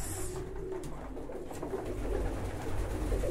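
Pigeons coo softly indoors near a closed window, low repeated murmuring calls over faint room hum, with no one speaking.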